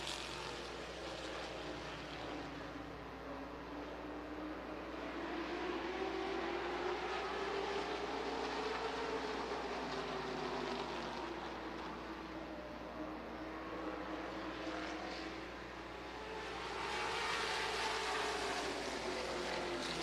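Late model race cars roar through heat races at State Park Speedway in Wausau, a steady distant engine drone that swells and fades as the pack circles the oval, with no talk.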